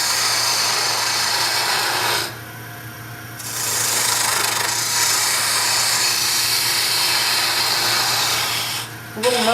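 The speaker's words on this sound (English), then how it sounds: "I'm just using the parting tool as a roughing tool right now." A parting tool roughs out stock on a wood lathe, giving a steady, close scraping hiss that briefly drops away and returns, with a low motor hum beneath.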